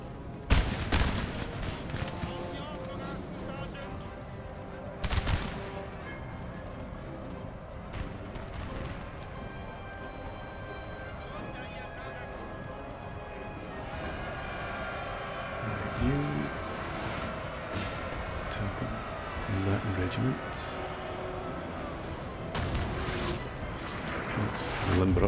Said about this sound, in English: Artillery to switch targets to the remnants over there.